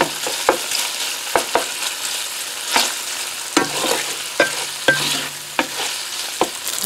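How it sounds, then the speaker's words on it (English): Gnocchi fry in a hot pan until golden brown, giving a crisp sizzle punctuated by regular sharp knocks and scrapes of a utensil tossing them, close and fairly loud. "I'm going to return the gnocchi. And we're going to cook this just until it's nice and brown."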